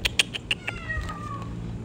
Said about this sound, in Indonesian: Bunyi kucing weh.